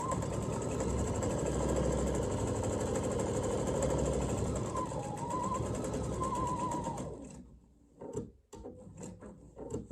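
A sewing machine runs steadily while stitching fabric for a jar lid opener craft, a continuous close mechanical whir for about seven seconds that stops abruptly, followed by a few brief handling clicks and rustles.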